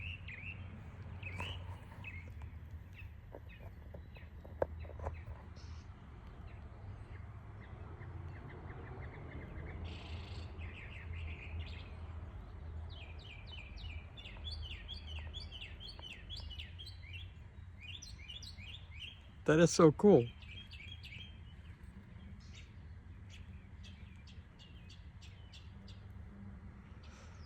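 A bird mimicking other birds' songs sings close by, with varied chirps, trills and repeated phrases in a quiet outdoor setting, plus a short loud burst partway through; a person briefly speaks once.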